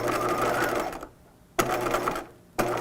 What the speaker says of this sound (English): And then I'm sewing all the way to the raw edge over here